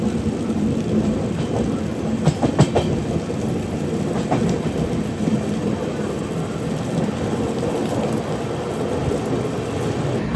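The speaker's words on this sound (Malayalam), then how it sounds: "അമൃത് ഭാരത് എക്സ്പ്രസ് അങ്ങനെയാണ്ട് നേത്രാവതി പാലം കടക്കാൻ പോവാണ് കേട്ടോ" The Amrit Bharat Express runs along at speed before crossing the Netravathi bridge, giving a loud, continuous rumble and rattle of wheels on track, with a few brief clanks partway through.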